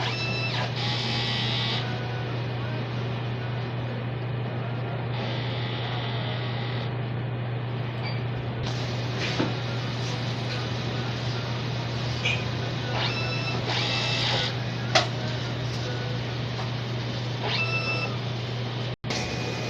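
A DTF printer runs its head cleaning cycle: a steady mechanical hum under intermittent pump whirs, beeps and short bursts of motor activity, with a few sharp clicks, close and alone.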